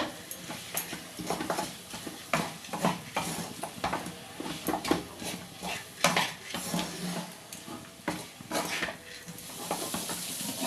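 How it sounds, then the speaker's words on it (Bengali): A spatula scrapes and clatters against a pan as moong dal and potatoes are stirred and fried, with irregular knocks and taps over a light sizzle, close and moderately loud, with no voices. "মুগ ডালটাও কিন্তু ভালো করে কষিয়ে নেবো"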